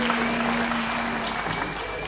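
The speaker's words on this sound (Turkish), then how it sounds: "Bu dünyadan gerçek dünyaya göç etmiş bütün halk ozanlarımıza gelsin güzel alkışlarımız." Audience applause for departed folk poets at a Turkish memorial event, a steady, moderately loud patter of many hands clapping for a couple of seconds with a faint tone beneath.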